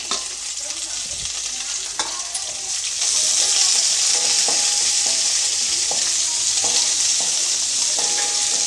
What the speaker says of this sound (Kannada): ಈಗ ನಾನು ಅದಕ್ಕೆ ಹೆಚ್ಚಿಟ್ಕೊಂಡಿರೋಂಥ ಕೊಬ್ಬರಿ ಹಾಕ್ತಾಯಿದ್ದೀನಿ ಹಾಗೆ ಕೊತ್ತಂಬರಿ ಸೊಪ್ಪು ಹಾಕ್ತಾಯಿದ್ದೀನಿ